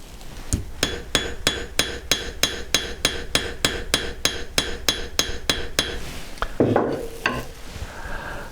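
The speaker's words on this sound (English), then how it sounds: "Kind of overlap my hammer blows" Rapid, evenly spaced metallic hammer blows forging sterling silver, ringing out one after another, about three per second, then a few scraping and shuffling sounds.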